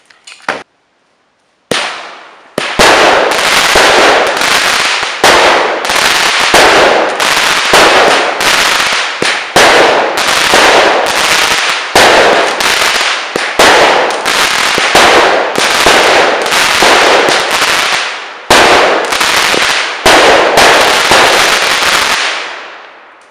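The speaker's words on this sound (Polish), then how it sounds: "Wyrzutnia, jak mówiłem, 16 strzała firmy Triplex." A Triplex Dark Age 16-shot firework battery fires outdoors: a loud, rapid run of sharp bangs and crackling bursts, one after another with short gaps, lasting about twenty seconds, with no talking.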